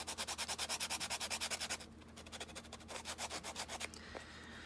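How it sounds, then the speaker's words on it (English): A cardboard box edge is hand-sanded for a junk journal, giving rapid, even rhythmic rubbing strokes close by, first strong and regular, then lighter and more uneven before stopping. "And you just sand it down."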